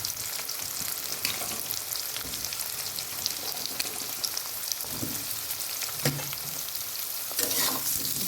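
Cut potatoes fry with reddened onions in a pan, a continuous close sizzle punctuated by scraping and clattering strokes as they are stirred, with no voices.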